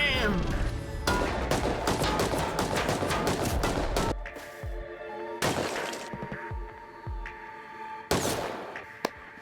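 Bursts of gunfire in the survival game Rust, loud rapid volleys around the start, middle and end, with quieter single shots and voices talking between them.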